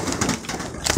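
Pet pigeons cooing close by, including an Indian fantail pigeon among several birds perched on a person, a short soft burst of low coos.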